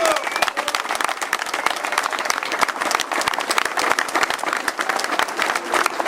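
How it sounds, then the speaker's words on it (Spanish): An audience at a 2014 event applauds Cacho Cuartango as he is invited forward, sharp close claps layered over steady crowd clapping, loud and sustained for several seconds with murmured voices underneath. "vamos a brindarle un fuerte aplauso"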